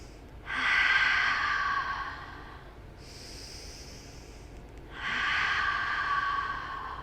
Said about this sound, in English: Nice deep breath in, deep breath out.